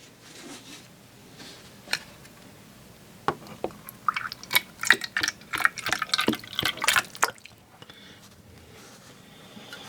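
Metal Rescue rust-removal liquid glugs and splashes into a container in a quick irregular burst of splattering pours, with a few isolated drips before and after.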